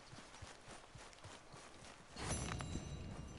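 Horse hooves clip-clopping in Red Dead Redemption 2, a steady rhythmic walk of faint hoofbeats that turns louder and busier near the end, with no talking.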